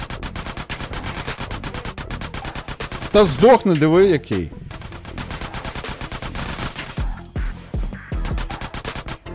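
Rapid gunfire in GTA San Andreas crackles in dense bursts, with a voice talking over the shots and a short warbling sound effect midway.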